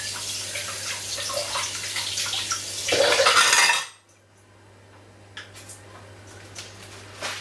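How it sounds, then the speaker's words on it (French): A spatula rinsed under a running kitchen tap, water splashing into a sink with light clinks of utensil against metal for a few seconds, then the flow cuts off leaving faint handling sounds. "je rince la spatule"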